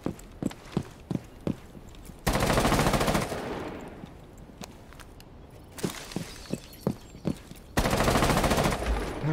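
Rapid bursts of FMG9 machine pistol fire in a first-person shooter video game, loud sharp volleys alternating with single shots and footsteps, close and punchy with no talking.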